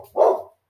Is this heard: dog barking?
yes